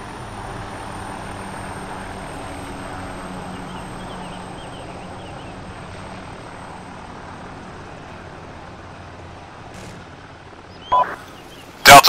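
A video game helicopter drones steadily at a distance, a low continuous rumble that carries on unchanged before a couple of sharp clicks near the end.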